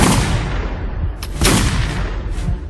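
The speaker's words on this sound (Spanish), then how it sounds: "se atacaba con la baqueta, se montaba el gatillo y recién se disparaba" Musket volleys fire from flintlock muskets in a documentary recreation of the Battle of San Lorenzo: loud, dense reports and booms layered over one another, with sharp cracks standing out near 1.2, 1.5 and 2.4 seconds and no speech.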